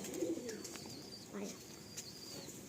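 Kalasabuj pigeons cooing softly, with a few low burbling coos and faint chirps against a quiet room background, with voices nearby.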